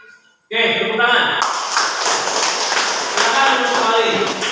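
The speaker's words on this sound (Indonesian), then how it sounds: "Oke, tepuk tangan." Schoolchildren in a classroom break into sustained, loud clapping after a brief quiet moment, with voices mixed into the dense applause.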